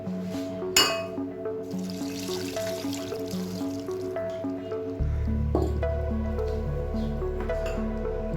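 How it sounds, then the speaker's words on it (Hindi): Water pours steadily into a pressure cooker, splashing and filling under a continuous musical backdrop. "अब और तकरीबन 1 गिलास पानी,"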